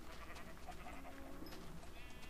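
Sheep bleating in the Minecraft video game on PS3, short repeated bleats over a busy, dense game soundscape with steady background noise.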